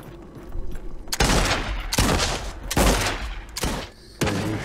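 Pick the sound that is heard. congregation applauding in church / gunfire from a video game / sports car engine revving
gunfire from a video game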